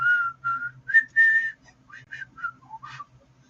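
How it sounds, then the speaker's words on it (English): A person whistles a short tune in clear, close phrases of rising and falling notes with brief pauses between them. "Whistling."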